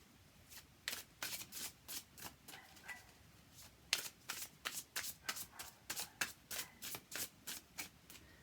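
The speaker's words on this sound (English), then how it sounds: "Hand over hand, it shuffles nicely." Playing cards shuffled hand over hand in a steady series of crisp, papery riffling bursts, close and clear with no talking.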